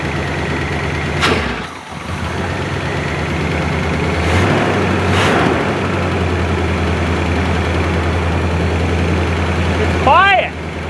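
A 1976 GMC C35 truck engine idling, a steady loud low rumble close by that holds even throughout, with a couple of brief clanks and a short squeak near the end.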